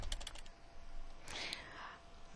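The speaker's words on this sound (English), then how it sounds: "Now let's type in J" A few fast keystrokes on a computer keyboard are followed by a softer tap, close and fairly quiet in a still room.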